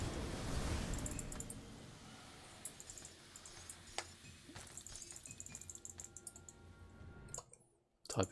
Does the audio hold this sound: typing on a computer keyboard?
yes